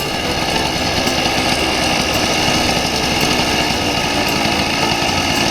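A Yamaha YD100 motorcycle engine revs hard at half throttle, a loud, steady, buzzy two-stroke roar close by that never lets up.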